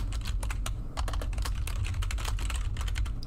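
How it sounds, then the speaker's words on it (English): Rapid typing on a computer keyboard, close up, with a steady stream of clicky keystrokes and no voices. "Oh, sorry, I'm typing."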